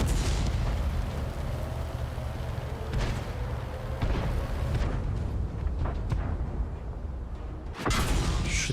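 Heavy tank cannon booms in a tank battle video game, with loud broadband blasts around the 3, 4.2 and 7.8 second marks over a continuous engine rumble and battle din.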